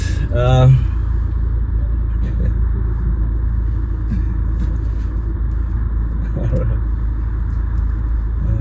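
A MINI car driving on the road gives a steady low engine and tyre rumble throughout, close and fairly loud, with a short louder surge near the start and no talking.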